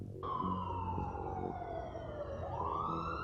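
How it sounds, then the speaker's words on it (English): A police siren wails close by, starting abruptly and then holding a loud, steady falling tone before it sweeps back upward. "Police siren! Police siren!"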